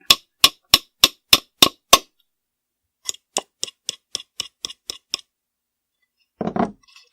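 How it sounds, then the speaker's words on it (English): A hammer strikes a nail with seven sharp, evenly spaced taps, pauses, then follows with a quicker run of lighter taps before a brief scraping sound. "we're just going to finish tapping it out"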